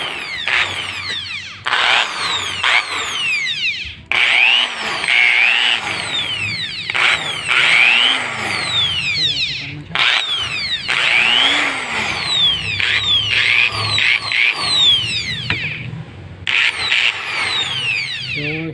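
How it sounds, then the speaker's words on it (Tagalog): A handheld electric drill runs after its switch has been replaced, whining loudly and close in repeated bursts that rev up and wind down, with short pauses between runs. "ang paggawa nitong drill na ito"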